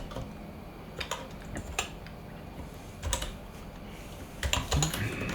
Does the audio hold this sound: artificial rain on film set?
no